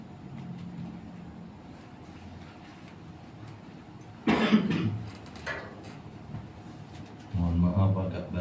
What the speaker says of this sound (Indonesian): Mohon maaf agak batuk-batuk sekali-sekali.